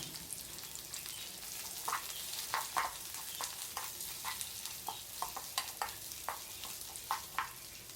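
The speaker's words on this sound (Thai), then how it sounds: "แล้วเราก็ใส่หอมใหญ่ลงไปผัดเลยค่ะ" Chopped onion stir-fried with minced garlic and curry powder for curried crab sticks: an oily sizzle with a string of scraping spatula strokes, close and fairly loud, and no one speaking.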